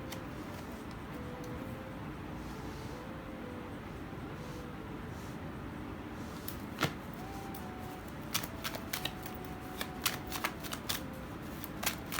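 Tarot cards for a pick-a-card love reading are shuffled and handled, a continuous soft riffling that gives way to scattered crisp flicks and taps as cards are drawn, close and without talk.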